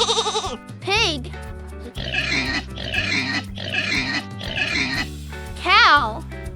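A pig grunts and oinks in a run of five snuffling bursts, close and fairly loud, over soft background music with whistling swoops before and after.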